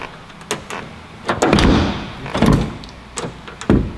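A car fitted with aftermarket scissor doors has its door lowered and shut: a few knocks and rattles, then a rushing swing and a couple of solid thuds, close by, with no talk.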